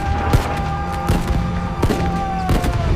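Gunfire in a battle between Indian and Chinese troops at Rezang La, with repeated sharp shots and bursts over a steady droning bed, loud and close, and no talk.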